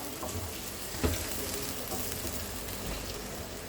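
Chicken and onions fry in a pan for a bhindi chicken dish, giving a quiet, continuous sizzle. A brief utensil clatter sounds about a second in.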